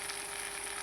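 Brinjal (eggplant) slices fry in oil in a pan, giving a steady, even sizzle with a faint continuous hiss and no other sounds.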